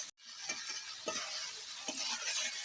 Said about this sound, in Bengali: আদা বাটা আমি আরেকটু কষে নেবো এখন